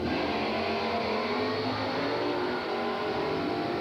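A 1969 small-block Camaro and a Nova launch down a drag strip at a spring national event, a loud, dense roar of racing engines filling the whole stretch with steady power and no break.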